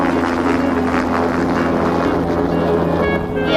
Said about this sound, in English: Yep, that's our helicopter.